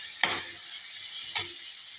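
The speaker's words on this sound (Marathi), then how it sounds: "आता हा वाल 2 ते 3 मिनिटापर्यंत तेलात छान परतून घ्यायचा आहे।" Black val beans sautéed in oil in a pan, with two distinct stirring scrapes standing out over a soft, steady sizzle, close by and with no voices.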